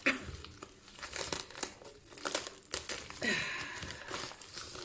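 Plastic packaging from a package of diamond-painting kits and a sun catcher crinkles and tears in a rapid burst of close rustles as it is opened, with a longer tearing rip near the end.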